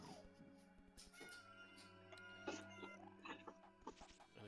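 A cat meows loudly several times in short, wavering cries, mixed with other faint background noises.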